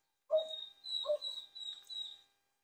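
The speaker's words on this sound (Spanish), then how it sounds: "Porque ahí ladran cuando miran algo" A dog gives a few short, high yelping barks in a quick series, fairly close and alone with no talking.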